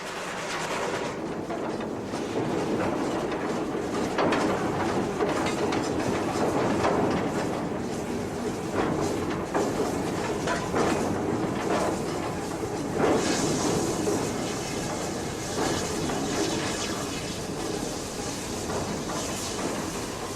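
The Great Western Railway steam locomotive City of Truro runs on a British main line, making a continuous loud rumble with rail clatter and hiss that swells and fades slightly over the run.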